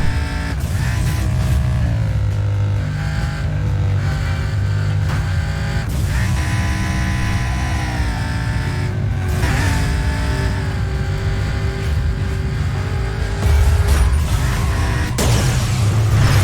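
A car drives in Burnout Paradise Remastered, its engine loud and close as it revs and shifts through gears under a constant roar, with a few rises in pitch and some clunks. No voices are heard.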